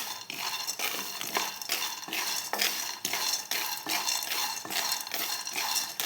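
Roasted peanuts stir in a hot pan on a gas stove, a metal spoon or spatula scraping and clinking against the pan in a steady repeating rhythm, close and fairly loud with the nuts rattling.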